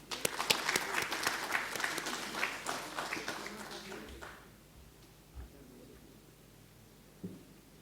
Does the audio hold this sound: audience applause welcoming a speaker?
yes